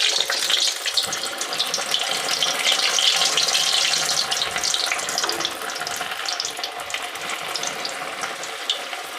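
Litti balls slid gently from a ladle into hot mustard oil in a kadhai over a low flame, giving a steady, dense hiss and crackle of frying that holds close and even throughout, with no talk.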